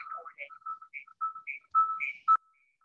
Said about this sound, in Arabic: ثواني بس اقفل صوت الموبايل